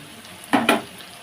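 Pakora batter dropped into hot oil, two short bursts of sizzling splutter close by over a quiet background hiss, with no talking.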